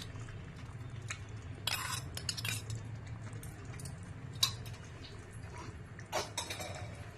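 Yogurt being stirred into fish kurma in a serving bowl, with a spoon scraping and clinking against the bowl in short bursts over a steady low background hum.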